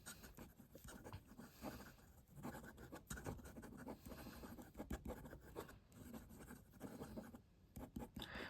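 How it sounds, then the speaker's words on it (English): A Majohn P140 fountain pen scratches across paper in quick strokes, a close, faint, continuous scritching with rhythmic pauses between words. "Let's do some quick writing."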